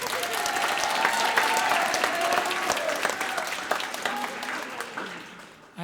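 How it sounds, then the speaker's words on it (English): A school audience claps at a middle school spring music program, dense and sustained applause with some crowd noise that tapers off near the end. "Give him a round of applause."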